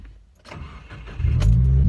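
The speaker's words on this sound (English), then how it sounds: "I'm gonna actually go ahead and turn the car on." A 2015 Subaru WRX engine cranks briefly and then catches, settling into a loud, steady idle rumble that fills the second half after a few quieter handling noises.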